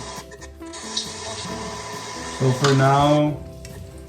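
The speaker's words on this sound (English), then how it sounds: "I just have the garlic frying." Garlic sizzles and crackles steadily in hot oil, a soft frying hiss under a short stretch of speech, as the first step of cooking Filipino ginataang hipon at kalabasa.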